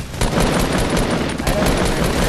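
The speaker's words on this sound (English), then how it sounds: "I'm gonna try to shoot this guy" Rapid automatic gunfire in Fortnite, loud and close, with repeated sharp bursts rattling over the whole stretch of play and no talk over it.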